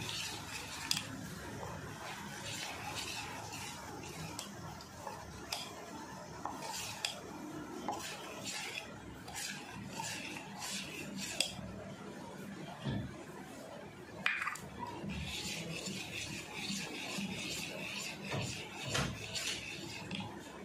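Semolina being stirred bit by bit into rice batter in a bowl: continuous clinking and scraping of a spoon against the vessel with wet squishing, faint and close, with some quiet talk underneath.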